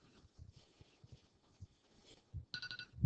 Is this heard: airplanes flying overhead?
no